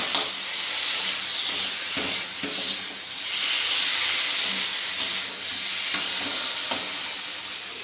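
Potatoes and masala frying in a pan, then water poured in: a continuous bright sizzle and hiss with occasional stirring scrapes, close up and with no talk.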